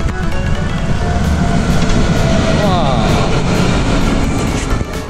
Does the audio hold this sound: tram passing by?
yes